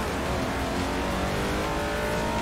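A high-powered all-wheel drive car engine in the Forza Motorsport 4 video game drones steadily at high revs, a dense, constant roar from the cockpit with no speech over it.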